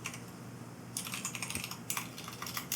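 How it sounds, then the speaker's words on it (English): Fingers typing on a computer keyboard, close and quiet, with a faint pause and then bursts of rapid clicking keystrokes and a few heavier key taps, no voices. "So I'm just going to type in test here."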